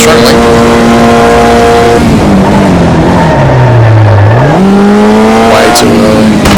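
Formula Junior race car engine in Automobilista 2 holds a steady loud drone, drops in pitch through a corner, then climbs again as the throttle comes back on, with brief tire or gear noises and a voice talking over it.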